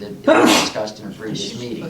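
A mayor lets out a single loud, sharp sneeze in a meeting room. Someone speaks before it and talk resumes right after.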